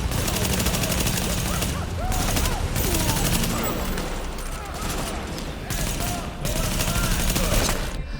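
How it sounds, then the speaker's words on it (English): Gunfire from the video game The Division, dense bursts of automatic weapon fire and shots rattling continuously with booming impacts in a busy combat mix. "the gunplay is really good though, and incredibly tight with weapon sound effects bursting with oomph"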